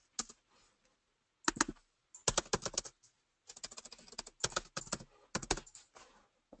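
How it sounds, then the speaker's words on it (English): Fingers tap out an email address on a computer keyboard, with close, crisp key clicks coming in short irregular bursts separated by brief pauses. "I'm going to type in my email address."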